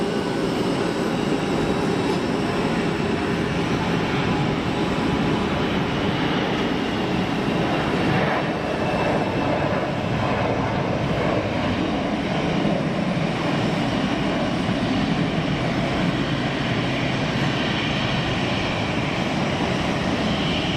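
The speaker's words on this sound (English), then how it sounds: "Tunisian 320 on the roll" A Tunisian Airbus A320 on its takeoff roll at Geneva Airport gives a steady, broad jet engine roar that holds loud and even throughout, with no talking.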